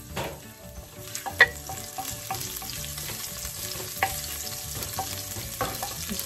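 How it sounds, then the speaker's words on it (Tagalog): Ginger sizzles in hot cooking oil in a home kitchen, giving a steady crackling fry with scraping stirs and a few sharper pops, heard close with no talking. "Kapag mainit na yung mantika natin, ilagay na po natin yung ginger."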